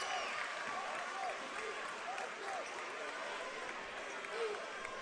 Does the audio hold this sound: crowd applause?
yes